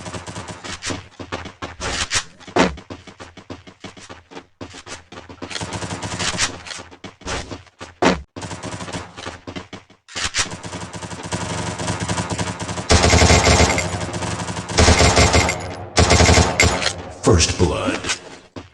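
Rapid bursts of video game gunfire in a Free Fire one-on-one match crack out in irregular volleys, some sustained and dense, broken by short pauses and punctuated by game sound effects.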